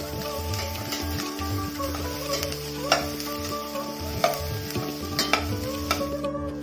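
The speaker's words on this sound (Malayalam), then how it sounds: "മഞ്ഞൾപ്പൊടി കൂടി ചേർത്ത് നമുക്ക് നല്ലതുപോലെ ഒന്ന് ഇളക്കി കൊടുക്കാം." Bitter gourd curry with turmeric, Kerala style, being stirred in a pan: a constant sizzle under repeated scraping and clinking strokes of the spoon, a few sharper knocks near the end, no talking.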